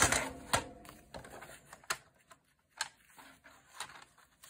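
A paper trimmer slices through paper in a series of quiet, sharp clicks and short scraping strokes, irregularly spaced, close up in a quiet room.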